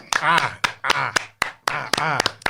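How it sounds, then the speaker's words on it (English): Sharp hand claps on a podcast set come in a loose, uneven rhythm, each one crisp and close, alternating with people talking and cheering loudly between them. "Everybody clap it up for Robert Howard."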